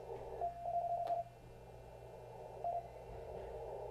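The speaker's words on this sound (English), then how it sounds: "Sounds like they're sending about 5 words a minute, which is standard for slow Morse code practice." Slow Morse code received on a ham radio sounds as a few faint, steady beeping tones, one long and one short, over a low background hum.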